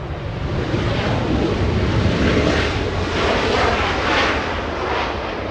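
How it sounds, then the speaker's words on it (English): A Delta Airlines passenger jet arriving from Salt Lake City at Los Angeles International Airport gives a loud, sustained engine roar that swells and holds steady for several seconds, with no talk over it. "Delta flying in from Salt Lake City."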